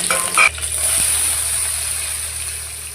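Green chillies and whole spices such as cloves fry in hot oil in a pan, a close, steady sizzle after a brief clatter at the start.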